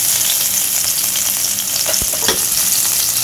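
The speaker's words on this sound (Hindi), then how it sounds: "तो थोड़ा सा लहसुन ऐड कर देंगे।" Steady sizzling of garlic frying in hot oil in a pan, a constant crackling hiss with a couple of faint clinks near the middle.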